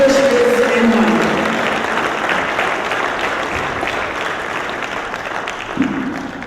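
A crowd at the Jamaica agri-business investment forum applauds to welcome the Minister of Agriculture, Fisheries and Mining, a sustained loud wash of clapping with a brief voice at the start and again near the end.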